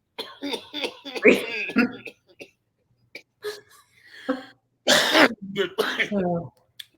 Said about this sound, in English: It's gonna make you cough a lot.